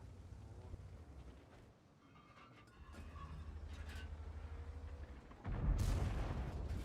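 A tank cannon fires once in a tank video game, a sudden loud blast near the end breaking over a steady low engine rumble.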